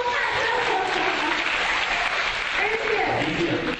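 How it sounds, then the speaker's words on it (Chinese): An audience at a labour day evening gala applauds, with dense, continuous clapping that fills a hall from start to end. "掌声鼓励一下。"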